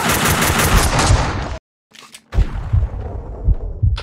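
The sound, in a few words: gunfire in the video game Max Payne 2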